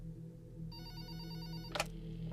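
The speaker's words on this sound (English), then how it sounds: "Then a phone call came in at work." A telephone ringing sound effect, with a bright electronic trilling ring over a steady low hum, moderately loud and alone, ending in a sharp click.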